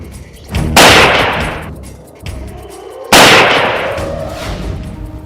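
Two loud, sharp gunfire-like blasts, each with a long decaying roar, mark a crime report on gun violence in a city; the second blast is the stronger, with a softer rumble between them and no voices.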